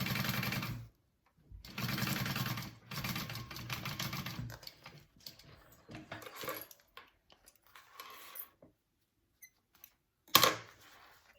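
A domestic sewing machine bastes fabric for a bucket bag in short stitching runs, whirring near and clearly between quiet pauses, followed by scattered small clicks and a sharp clatter near the end.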